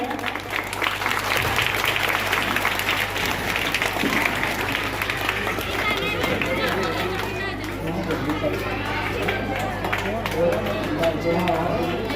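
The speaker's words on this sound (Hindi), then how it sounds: "पूरे तालियों से स्वागत करें।" At a school farewell ceremony honoring headmaster Shambhu Prasad Dev, a gathered crowd applauds continuously, mixed with chatter and voices over a low steady hum.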